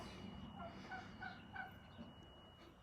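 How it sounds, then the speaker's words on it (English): A turkey gobbles in quick rattling bursts, fairly distant and soft, against a steady outdoor background hum. "The turkey always yelling at you."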